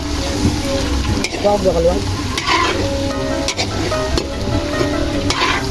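Beef skin balbacua stirred in a frying pan, sizzling and scraping steadily throughout with splashy liquid movement and occasional utensil clinks, close and loud, with faint voices in the background.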